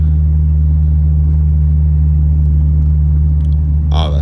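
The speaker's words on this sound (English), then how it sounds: "You can listen to the engine." A Honda D16A6 VTEC car engine with an intake modification hums with a steady low drone while driving, constant and fairly loud, with a brief higher rattle near the end.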